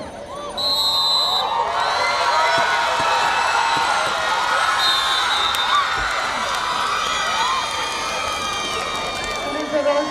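An audience at an inter-college sports meet in Mangaluru cheers and shouts for competing teams, a loud sustained crowd roar with whoops and children's voices, with an announcer talking over it.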